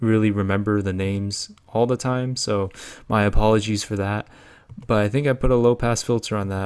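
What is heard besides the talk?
No distinct noise like a dog, phone or traffic.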